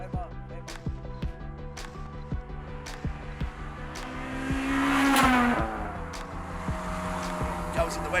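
A Honda Integra Type-R DC5 engine revs up and falls back in one loud, rising and falling sweep over a busy mechanical background with sharp clicks.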